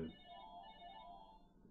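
A telephone rings in an office during a recorded conversation, a single short electronic ring burst with steady tones that fades toward the end, fairly faint and heard alone.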